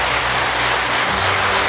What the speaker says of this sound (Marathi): जोरात जोरात जोरात जोरात जोरात टाळ्या वाजवा